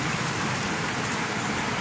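Steady rain falls continuously, a dense hiss of drops on surfaces with no voices, even and unbroken throughout.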